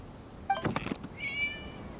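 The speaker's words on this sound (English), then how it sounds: "It was just a cat." A short, faint meow of a cat in a video game rises and falls, followed by a few soft knocks and a second drawn-out meow.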